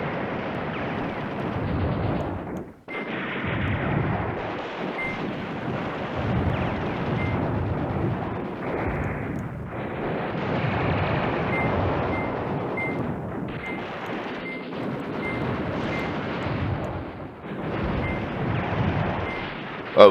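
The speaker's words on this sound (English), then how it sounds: "Oh, we've got some airstrikes." Airstrikes pound the battlefield in Command Ops 2 around Iraklion airfield, a dense, continuous rumble of blasts and booms rolling for twenty seconds with only a brief lull, no voices.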